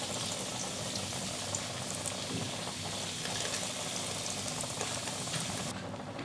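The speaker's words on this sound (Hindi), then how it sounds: "मीडियम फ्लेम पर हम पराठों को फ्राई करके निकाल लेंगे" Parathas deep frying in hot oil over a medium flame make a steady, dense sizzle and bubbling hiss that continues evenly throughout at a moderate level.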